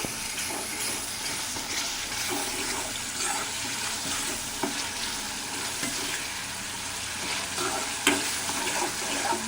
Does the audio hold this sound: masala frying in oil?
yes